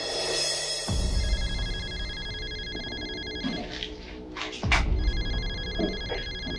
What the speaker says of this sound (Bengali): মা ফোন দিছে।